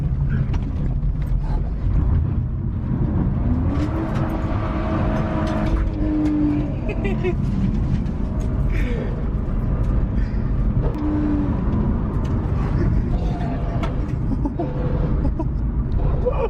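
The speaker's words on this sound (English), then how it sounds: "Let's fucking try to do a little burnout out of here." A BMW E46 drift car revs hard through a burnout attempt, its engine roaring loudly and continuously with mechanical clatter and some rattling close by.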